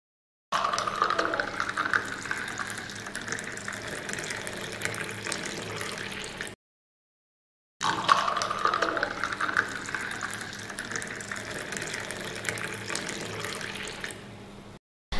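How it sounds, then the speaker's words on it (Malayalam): Strained lime juice poured over ice cubes into glasses, a steady splashing stream heard in two separate pours with a short silent pause between them. "അതിനുശേഷം അരിച്ചു വെച്ചിരിക്കുന്ന ജ്യൂസ് ഒഴിച്ചു കൊടുക്കാം."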